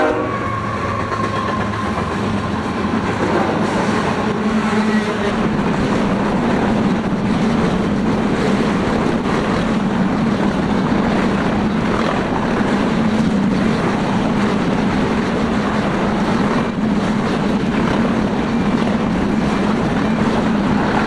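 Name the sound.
westbound freight train led by BNSF locomotive 8008 rolling through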